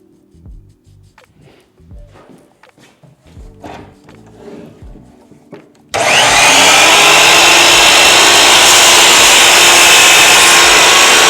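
A Dewalt dual bevel miter saw bites into a piece of wood, a sudden loud, dense roar of blade and cutting that holds steady for about five seconds after quieter handling noises and clicks.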